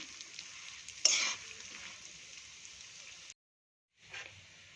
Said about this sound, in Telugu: కాస్త వేగిన తర్వాత పుట్నాలు వేసుకొని వేయించుకోవాలి